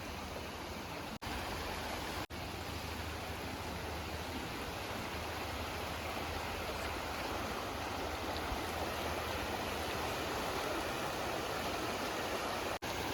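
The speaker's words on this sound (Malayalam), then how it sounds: "ഇനി നമുക്ക് ഇവിടുന്ന് ഈ അരുവി ഒഴുകി പോകുന്നൊരു കാഴ്ച കണ്ടാലോ" A steady, even rush of a forest stream in Vagamon, Kerala fills the scene, a continuous flowing-water sound with no voices, interrupted only by a couple of brief cuts.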